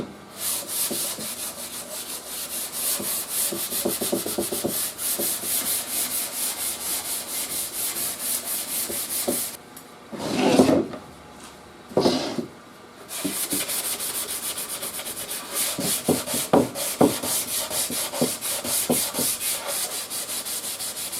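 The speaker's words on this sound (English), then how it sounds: "That gets it completely sanded." Hand sanding of an old Crosley 6 radio's wooden cabinet, a steady close scratchy rubbing that runs almost continuously with a short pause midway.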